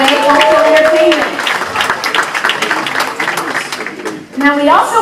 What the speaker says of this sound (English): Another round of applause for Igwe Cultural Entertainment.